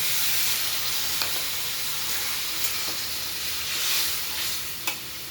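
Continuous hissing sizzle as water hits a hot spiced mixture with chicken masala, cumin, coriander and turmeric powder, a few faint stirring clicks over the steady steam.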